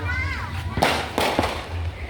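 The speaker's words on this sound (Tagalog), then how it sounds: "Para makita nila ang fireworks." Several sharp New Year's fireworks bursts crackle at a distance, spaced irregularly, with people talking in the foreground over a busy outdoor crowd background.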